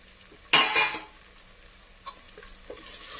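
Beans and carrots tumble into a hot pan for soya chunks pulao with a sudden loud sizzling rush, followed by quieter scraping stirs and light clinks of the spoon against the pan.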